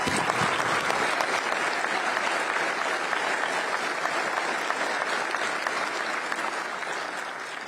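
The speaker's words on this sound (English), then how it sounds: "Let's give her a crazy round of applause." Sustained, dense applause from a large crowd at a State of the State address, steady and loud throughout before tapering slightly at the end.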